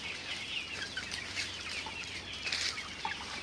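Desi country chickens and a few thousand chicks on a village poultry farm, with scattered clucks and peeping calls over a constant low background murmur, moderately distant.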